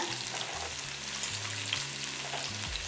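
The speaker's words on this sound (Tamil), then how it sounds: "ஒரு நாலு தக்காளியை அப்படியே முழுசாகவே போட்டு வதக்கிடலாம்" Four whole tomatoes sizzle and fry in a pan for a sardine fish curry, a steady close hiss and crackle with light stirring throughout and no speech.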